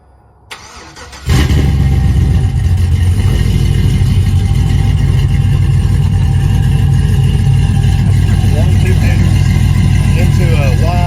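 A GM LS V8 with an Elgin Stage 2 camshaft, headers and a fresh rebuild cranks over and fires, then settles into a loud, choppy, lopey idle through a single 3-inch exhaust, with someone talking over it.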